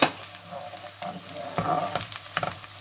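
Tomato paste frying in a pan, a short close sizzle with a few bursts of crackle and scraping from stirring, moderately loud and without speech.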